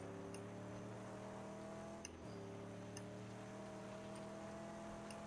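A steady car engine drones in the Mad Max wasteland game, holding a constant hum with a brief dip near the middle and faint ticking clicks scattered over it.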